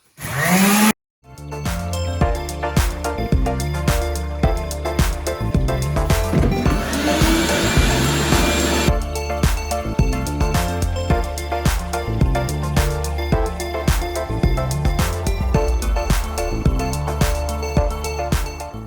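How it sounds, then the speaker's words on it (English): A power sander smooths fiberglass around a hole in a 1972 Glasspar boat hull, running as a steady, loud, close whine for nearly the whole stretch after a short start-up. "Now I'm going to take a sander because there's other residue and stuff around the edge of the hole."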